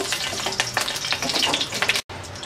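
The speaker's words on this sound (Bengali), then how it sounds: "শুকনো মরিচটা হালকা একটু ভেজে নেব।" Four torn dried red chilies fry in four tablespoons of hot mustard oil, a steady crackling sizzle that stays close and busy, with a momentary drop-out near the end.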